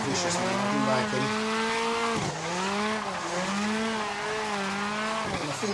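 A BDC S14 street-spec drift car in Assetto Corsa holds a sustained slide, its engine droning and shifting pitch with each throttle change as tires squeal steadily beneath, close and unbroken.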